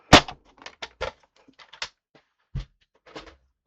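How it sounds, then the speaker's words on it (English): Crisp, sharp scissor snips through paper sound in short, irregular bursts close by, with quiet pauses between the cuts. "I just snip it out with my scissors"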